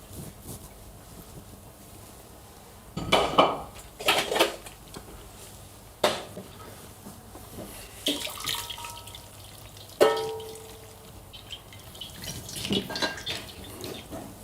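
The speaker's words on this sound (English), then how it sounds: "We are going to pour the water out of the pasta." Water is poured off cooked pasta in a kitchen, with clattering pots and utensils and splashing bursts at irregular intervals, close and fairly loud.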